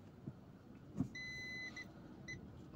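Car parking sensor beeping as the vehicle reverses toward a motorbike parked close behind, a steady high tone followed by short repeated beeps over low engine rumble.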